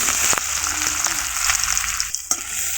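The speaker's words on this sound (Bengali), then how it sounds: "ছুনির সাহায্যে এভাবে পেঁয়াজ কুচিগুলোকে হালকা ভেজে নিতে হবে" Chopped onion fries in soybean oil in a wok, a steady loud sizzle and crackle with occasional stirring scrapes, no voices.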